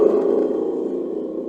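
A thunder drum rumbles steadily and fairly loud, a continuous low roar imitating a cloud's thunder in a storytelling performance, fading slightly over its short span with no talking.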